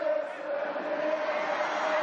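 Football stadium crowd at an AFC Champions League match between Pohang Steelers and Shandong Taishan, a steady broad roar of many voices building in anticipation during a counterattack, continuous and fairly loud throughout.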